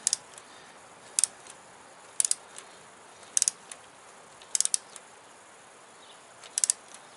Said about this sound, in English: We're going to ratchet on tight there